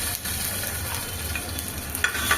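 Cumin seeds, mustard seeds and ginger-garlic paste fry in hot oil with a steady, close sizzle and a few brief crackles and pops. The sizzle runs the whole time with no talking.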